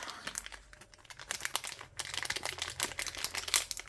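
Plastic packaging around a small stylus crinkles and crackles in quick, irregular bursts as it is worked open, close and dry, with no talk.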